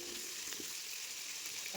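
Curry leaves sauté in a pan, a faint, steady sizzle with a light stir.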